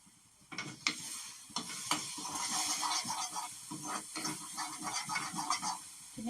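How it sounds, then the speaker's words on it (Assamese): Vegetables frying in oil in a pan on a home cooking show, with a steady loud sizzle and repeated spatula scrapes and stirring knocks throughout, no voices over it. "ধুনীয়াকৈ এইখিনি ফ্ৰাই কৰিম।"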